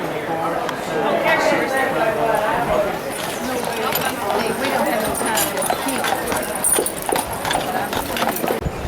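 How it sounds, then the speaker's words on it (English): Hooves clip-clop on pavement as carriage horses pass on Mackinac Island, a busy rhythmic clatter under people talking nearby. "Yeah, there's some pretty horses."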